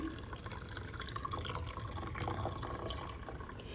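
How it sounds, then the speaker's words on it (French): Hot water poured onto millet grains in a bowl, a faint trickling and dripping splash of liquid, quiet and close, with no talk. "Là, nous renversons de l'eau chaude dedans"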